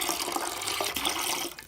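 Water pours steadily into a bucket of molasses for biofloc preparation, a close, continuous splashing rush that tapers off at the end.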